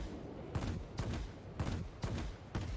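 Bursts of quad 37mm cannon fire from an XP-58 fighter in World of Warplanes, roughly five heavy rapid volleys at near-regular intervals, loud and close, with no talk.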